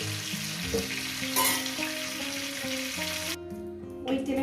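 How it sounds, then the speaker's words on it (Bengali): Cauliflower florets and potatoes fry in hot oil with a steady sizzle, broken by brief scraping stirs of a utensil and a short pause near the end; no one speaks. "আমি ফুলকপি আর আলুটাকে কত সুন্দর করে ভেজে নিয়েছি"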